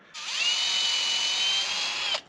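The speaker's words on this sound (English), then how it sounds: "I put it through a shank first, then put it in the drill." An electric drill spinning a reamer whirs steadily at high speed for about two seconds, close and loud, then winds down as it stops.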